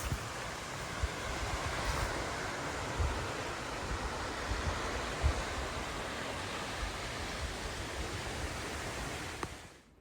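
Steady wash of surf on a Lake Michigan beach at a campground, a broad continuous roar with soft swells and wind rumble, no voices.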